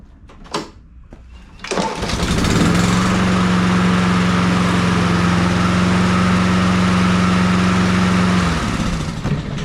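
A Honda HRR216 push lawn mower catches after a couple of pulls and settles into a loud, steady engine drone that holds close by for several seconds before easing down.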